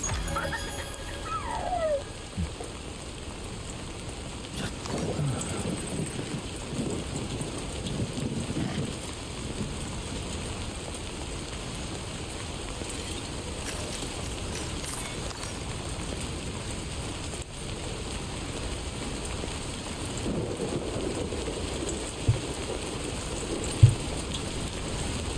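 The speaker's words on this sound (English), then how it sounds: "Suppose it's gonna stop raining," Steady rain patters across a video game landscape at a facility, with a faint rumble of thunder underneath and a couple of brief sharp knocks late on, no voices.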